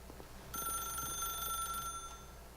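An electronic telephone rings in the video game The Stanley Parable, a steady high trill that starts about half a second in and runs for around a second and a half over a low ambient hum.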